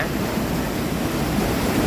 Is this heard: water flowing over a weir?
yes